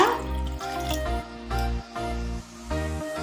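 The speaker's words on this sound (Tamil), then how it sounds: "உங்களுக்கு தேவையான அளவு தண்ணி வச்சுருங்க" Water is poured into a pan of dry fish curry (karuvattu kuzhambu), a soft bubbling, dripping trickle that comes in several short pulses with brief pauses, close and fairly quiet.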